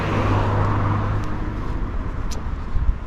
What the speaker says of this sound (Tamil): என்னோட பஸ்ஸு ஸ்டாப்பை விட்டு போகுது.